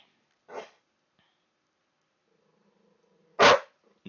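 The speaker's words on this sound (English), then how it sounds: "No barking." A dog barks twice, a short bark followed a few seconds later by a louder, sharper one, close by in an otherwise quiet room.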